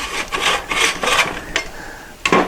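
A dune buggy generator fan, reinstalled without its clearance shims, rubs against the housing in a series of rough, rasping scrapes with short gaps between them, close and fairly loud, with no voices.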